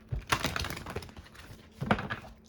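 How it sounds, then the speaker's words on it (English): A deck of oracle cards is shuffled by hand with quick, crisp riffling and tapping bursts, the loudest near the start and again just before two seconds. "Final shuffle."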